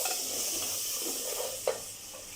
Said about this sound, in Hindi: अच्छे से मिक्स कर लें। साथ ही मैं इसमें ये एक जो हमारे पास टमाटर है वो ऐड कर दूंगी।